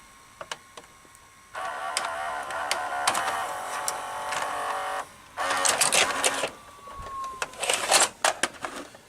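A Sanyo VHR-H600 VCR ejects a tape, its loading mechanism whirring steadily for several seconds, then a burst of clicks and clunks as the cassette comes out, close and fairly loud with no talk.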